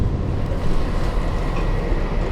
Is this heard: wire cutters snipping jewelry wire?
no